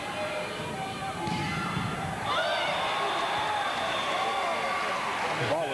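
Riverside fans cheering from across the gym at a 1982 women's Division II volleyball championship match against CSU Northridge, a broad crowd roar swelling after about two seconds and holding steady, with thuds and scattered voices in the hall.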